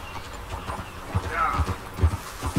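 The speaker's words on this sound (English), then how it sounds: "That horse looks like a fine traveling companion." Hoofbeats from Red Dead Redemption 2 clip-clop at a steady walking pace, soft and close, with a faint voice and background game ambience around them.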